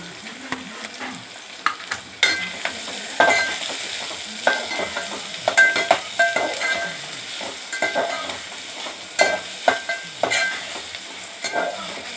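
Onions fry in hot oil, a constant close sizzle punctuated by repeated scraping and knocking strokes of a spatula against the pan as it is stirred, no voices.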